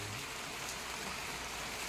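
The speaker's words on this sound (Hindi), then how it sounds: "अब बारिश लगनी शुरू हो गई है" Light rain falls steadily on a kitchen garden where taro is being sown, a soft, even hiss of fine drops with no distinct individual hits and no voices.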